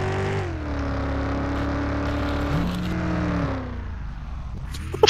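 GTA video game car driving and revving, a steady engine drone with rising and falling pitch sweeps as it accelerates, ending in a couple of sharp knocks, no talking.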